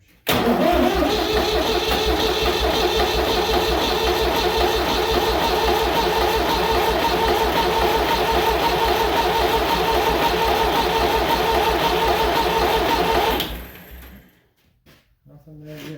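Rebuilt David Brown 780 tractor engine cranking on the starter motor, a loud, rapid, even churning rhythm held for about thirteen seconds before it cuts off abruptly into near silence.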